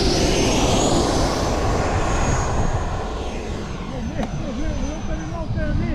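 An Eflite Viper 90 RC model jet flying over an airfield, its loud turbine whine sweeping past close by and then fading slightly as it moves away, with faint voices in the background.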